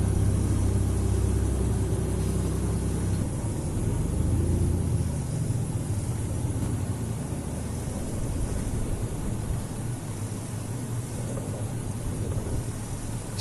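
A tarping machine engine runs with a steady, close mechanical rumble and broadband drone, its low throb easing after a few seconds but continuing throughout.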